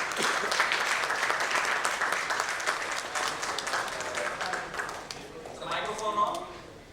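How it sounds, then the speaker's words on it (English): Audience applause welcoming panelists onto the stage at a leadership keynote panel, a dense steady clatter of many hands for about five seconds that then thins out as a voice speaks over the fading claps. "let's welcome them with a round of applause"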